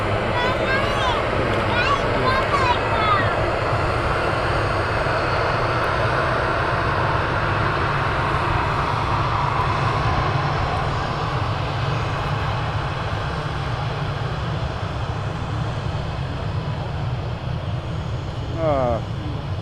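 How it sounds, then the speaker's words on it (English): Three airliners taxi at Manchester Airport, a continuous low engine drone with whining turbine tones, fairly close and steady throughout, while someone talks over it. "So there's actually 3 aircraft taxiing"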